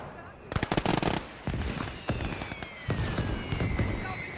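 Bursts of MG42 machine gun fire in the Gates of Hell Ostfront battle game: several rapid rattling volleys, loud and close, separated by short pauses, with other battlefield crackle and a whining tone in the background.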